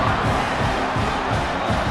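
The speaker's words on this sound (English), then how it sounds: "Here comes this home crowd as the defense tries to get off the field on 3rd down." A home crowd roars at a rivalry football game on a third down, a dense, steady wash of cheering voices that holds loud for two seconds.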